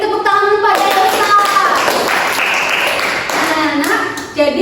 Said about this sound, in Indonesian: Beri tepuk tangan pada Elsa.